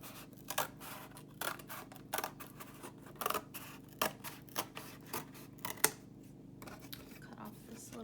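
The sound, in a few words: cutting a flap off cardboard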